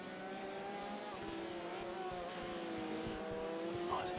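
Prototype race cars lapping Le Mans in a sim racing game, engines droning steadily with layered harmonic whines as cars run through Mulsanne corner, a continuous mid-distance roar with slight pitch shifts throughout.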